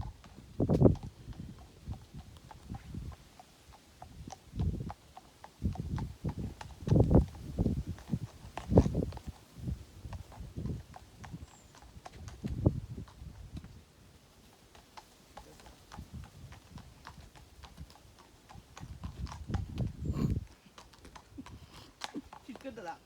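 Hooves of a walking horse clop in an irregular series of soft thuds across the whole stretch, while people talk nearby in between and over the steps.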